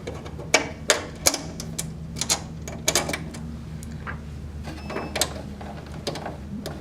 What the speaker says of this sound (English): So we undo the wing nuts.